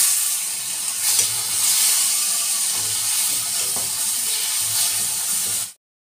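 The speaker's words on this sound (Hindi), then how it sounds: "प्याज और लहसुन वो सब अदरक सब कुछ फ्राई हो चुका है। टमाटर इसमें डाल लेते हैं जल्दी से।" Chopped tomatoes tipped into a pan of already-fried onion, garlic and ginger, giving a loud, steady sizzle and hiss with faint stirring that cuts off abruptly near the end.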